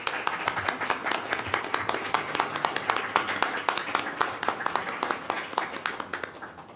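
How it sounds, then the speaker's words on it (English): An audience claps for the panelists at a funders' meeting held in a library. The hand claps are distinct and fairly sparse, forming a steady patter that fades toward the end. "Can I have a round of applause for our panelists?"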